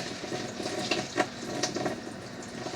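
Tap water runs in a home kitchen while vegetables are rinsed for a healthier lasagna, a fairly quiet steady splashing with a few brief sharper spurts.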